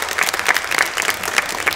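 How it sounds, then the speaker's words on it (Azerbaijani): Brief burst of studio audience applause on a television talk show, a lively patter of many hands with distinct sharper claps poking through, sustained for under two seconds. "bu alqışlar da sizindir"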